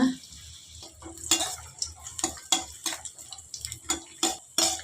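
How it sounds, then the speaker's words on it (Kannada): Almonds, raisins and cashews tossed in a couple of spoons of hot ghee, a spoon clinking and scraping against the pan in irregular taps over a soft, steady frying hiss. "ಗ್ಯಾಸ್ ಹಚ್ಚಿ ಒಂದು ಎರಡು ಸ್ಪೂನು ತುಪ್ಪ ಹಾಕ್ಕೊಳ್ಳೋಣ ಬಾದಾಮಿ ದ್ರಾಕ್ಷಿ ಇದು ಗೋಡಂಬಿ ಹಾಕ್ಕೊತಾ ಇದ್ದೀನಿ ಹುರ್ಕೊಂಬಿಡೋಣ"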